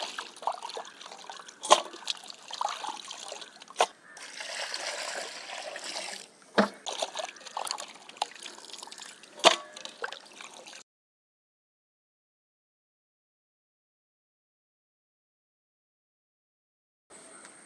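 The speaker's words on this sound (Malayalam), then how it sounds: "കോഴി നമുക്കൊരു 5 വെള്ളം നന്നായിട്ട് കഴുകിയെടുക്കണം" Chicken being washed in water several times before a roast: intermittent splashing, trickling and dripping with sharp clunks for about ten seconds, then near silence with a brief return of sound at the end.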